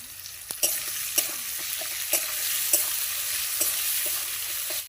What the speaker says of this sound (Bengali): পেঁয়াজটা ভালোভাবে নাড়িয়ে নেবো পেঁয়াজের ওপরে অল্প করে নুন দিয়ে নেবো